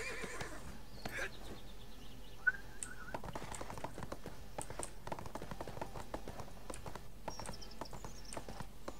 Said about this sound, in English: Horse, come here.